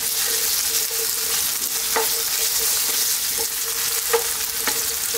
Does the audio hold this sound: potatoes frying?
yes